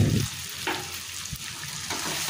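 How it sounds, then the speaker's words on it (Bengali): Spices with Kashmiri chili powder fry in oil in a pan for a Bengali pabda fish curry, giving a steady close sizzle with a few soft stirring scrapes and no talk. "আবার হলুদ গুঁড়ো লঙ্কা গুঁড়ো মশলাগুলো ভালো করে আবার একটু কষে নেব।"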